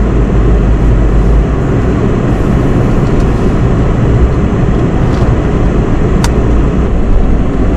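Four-wheel-drive truck with a camper grinding up a mountain hump, a steady loud engine and rumbling drivetrain roar held throughout with no gaps, no voices.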